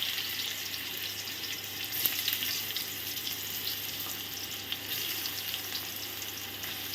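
Taro pieces slide into hot oil seasoned with dried red chillies, bay leaf and panch phoron, giving a steady, dense sizzle and crackle that continues without a break and stays close and moderately loud.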